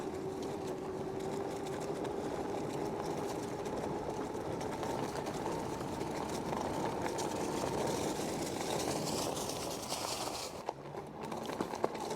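A HeyBike Mars 2.0 folding e-bike runs on throttle alone, its motor giving a steady whine that slowly rises in pitch. Rolling noise and wind rumble sit underneath, and there are a few knocks near the end.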